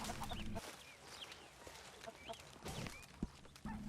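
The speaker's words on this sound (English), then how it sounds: "Pearson's got some chickens around." Chickens cluck and chirp around a camp in the Red Dead Redemption 2 video game, with soft repeated clucks over a low ambient bed and an occasional hoof clop, with no talking.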